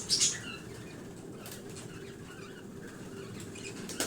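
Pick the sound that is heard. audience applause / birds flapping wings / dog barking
birds flapping wings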